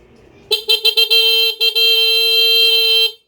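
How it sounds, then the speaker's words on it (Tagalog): A stock motorcycle horn honks loud and close, starting with several short rapid beeps and then holding one long steady blast, all in a quiet setting with no talk. "Loud horn."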